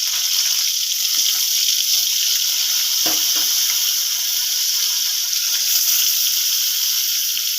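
Spiced pointed gourd frying in oil, a constant loud sizzling hiss with faint crackles and one brief clatter midway, heard alone without talk.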